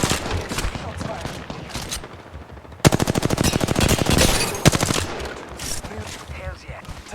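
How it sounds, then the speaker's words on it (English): Rapid automatic gunfire in a shooter video game, a long loud burst of fast shots with explosions and other battle sounds around it. "They're shooting at me."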